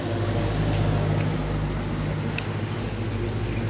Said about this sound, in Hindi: पानी का पंप भी अच्छे से काम कर रहा है और ये अभी फुल स्पीड में चल रही है